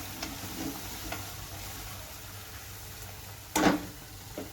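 Masala paste for a drumstick-pod curry frying in oil in a pan, a faint steady sizzle with a few soft ticks and one louder scrape or stir near the end.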